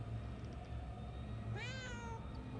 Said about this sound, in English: Cat in pain just isn't the thing I wanted to hear.